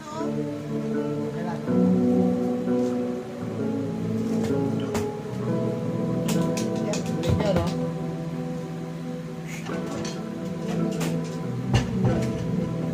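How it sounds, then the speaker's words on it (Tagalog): Sustained bass notes with a harmonizer and shimmer effect, layering higher pitched tones and a washy, ringing sparkle over the low end, played steadily throughout. "Ngayon yung isang amp naka-harmonizer at saka naka-shimmer, ito yung tunog niya."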